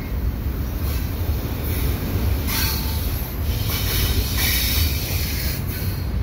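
A CPKC freight train carrying stacked containers and mixed cars rolls past at night, a steady low rumble with metallic wheel squeal and bursts of high screeching from the rails, close and continuous.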